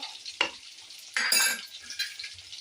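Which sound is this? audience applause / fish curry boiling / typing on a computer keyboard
fish curry boiling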